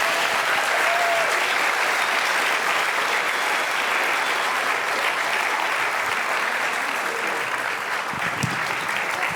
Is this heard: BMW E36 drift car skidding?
no